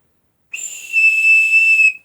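A single sharp, high-pitched blast from a bug-out bag survival whistle, steady and loud, held for about a second and a half before cutting off.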